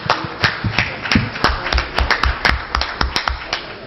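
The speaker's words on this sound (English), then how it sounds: "Please let's give a round of applause." A round of applause at an African coffee symposium, with fast, dense clapping from an audience that carries on steadily for the whole four seconds and includes a few sharper individual claps.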